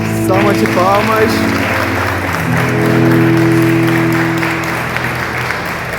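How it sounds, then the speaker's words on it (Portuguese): Audience clapping at a Catholic Marian devotional gathering honoring the Mother of Jesus, a steady round of applause lasting several seconds over sustained musical tones, with a voice briefly audible near the start. "Salva de palmas."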